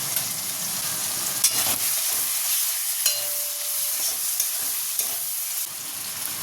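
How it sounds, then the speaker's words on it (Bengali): Tomatoes with turmeric and Kashmiri chilli powder sizzle steadily in a hot pan for chicken tarka, a bright continuous frying hiss broken by a few scraping stirs, close and alone. "চলো এগুলো আরেকটু ভাজা ভাজা হোক"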